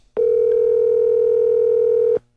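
An outgoing telephone call gives a single ringback tone, a loud steady electronic hum that starts sharply, holds for about two seconds and then cuts off cleanly, with no speech.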